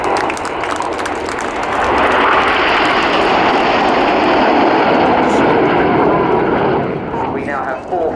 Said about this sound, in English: This is Lancaster.